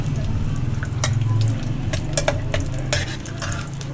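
Mixed dry fruits frying in desi ghee in a frying pan over low heat, a steady close sizzle broken by quick scraping and clinks of the spoon against the pan.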